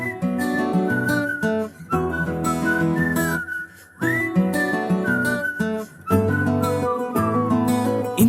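A bright, wavering whistled melody rides along over a busy backing song, phrasing in bursts with short pauses between lines and no spoken voice.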